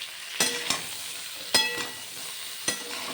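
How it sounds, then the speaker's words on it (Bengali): Potatoes and eggplant stirred in a pan with salt and turmeric: a low background sizzle broken by several sharp spatula scrapes and knocks, loud and close, at uneven intervals. "ভালো করে মিশিয়ে নিচ্ছি"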